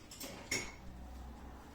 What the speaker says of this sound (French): Je prends une cuillère propre parce que j'ai pas envie que ça pourrisse.